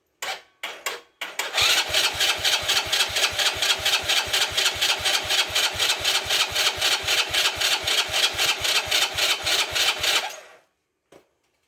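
A 125cc ATV engine with a freshly repaired carburetor cranks over without catching, a rapid, even chugging of starter strokes lasting about eight seconds, close and loud, after a few short separate bursts at the start.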